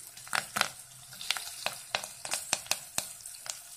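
Prawns sizzling in a pan on a low flame as fresh curry leaves are added, a soft steady fry broken by sharp crackling pops and spits, close and fairly quiet, with no voices.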